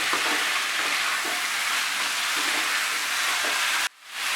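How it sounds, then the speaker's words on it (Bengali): Vegetables with spices being sautéed on high flame for a Bengali fish-head curry with pointed gourd, a loud dense hiss of frying with faint stirring scrapes, stopping sharply near the end. "এবারে আমি আঁচটাকে বাড়িয়ে দিয়ে মশলার সঙ্গে সবজিগুলোকে মিশাতে থাকবো আর কষাতে থাকবো"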